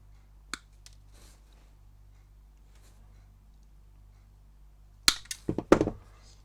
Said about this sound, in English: Right, so we just trim these to length.